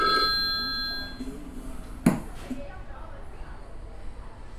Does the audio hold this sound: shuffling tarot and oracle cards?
no